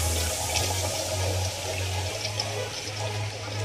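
Water pouring steadily into a cooking pot for fish paksiw with okra, a continuous close splashing rush that shifts slightly in pitch as it fills, over a low steady hum.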